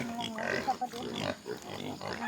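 Hungry farm pigs grunt and squeal continuously at close range while being fed, with overlapping oinks and a voice speaking faintly underneath.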